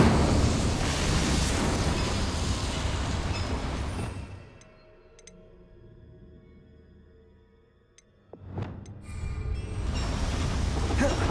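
Incendio fire spell cast in a Hogwarts video game, a loud roaring whoosh of flame that cuts out into a quiet low hum, then a sharp burst and another long roaring rush.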